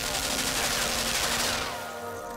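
Rapid machine gun fire in Limbo, a dense continuous rattle of shots that stays loud and close for about two seconds before tapering off slightly.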